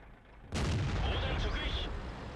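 A tank cannon fires in World of Tanks, a single heavy booming blast that erupts suddenly and rumbles on with a long sustained roar, loud and close.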